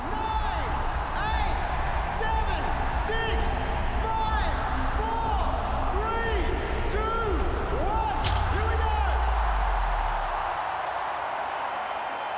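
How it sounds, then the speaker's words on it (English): Big crowd at a cricket stadium, the MCG, before a T20 World Cup match, roaring and chanting a countdown in steady rhythmic bursts, loud and far-spread, with a deep rumble swelling near the end. "we'll just let the crowd count us down."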